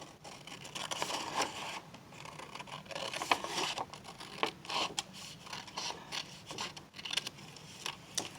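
Scissors trim paper along an edge for a junk journal, making a series of quiet close snips and scraping cuts in an irregular rhythm with no talk.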